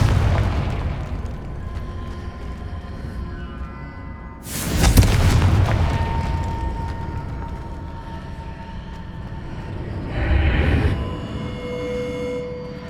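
Confringo spell explosions in the video game Hogwarts Legacy, two separate bursts a few seconds apart, the first louder and sharper, rising over a continuous rumbling background.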